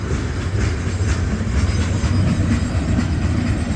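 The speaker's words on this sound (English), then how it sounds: "You can't see it, but you can hear it." A long freight train rumbles past close by but out of sight, a loud continuous roar of rolling wheels and rattling cars that holds steady throughout.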